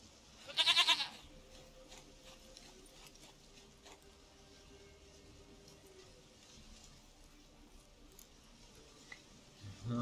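A goat in The Witcher 3 game gives a short, sharp bleat near the start, then a quiet ambient stretch with faint rustling and a small noise at the end.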